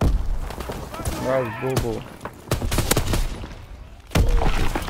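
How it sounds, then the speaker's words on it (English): Gunfire in a World War II video game, sharp shots and bursts mixed with loud, excited talk from players over the action. "Who the fuck is shooting?"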